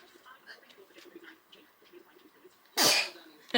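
A single loud, sharp sneeze bursts out near the end after quiet background murmur and faint movement, close to the listener.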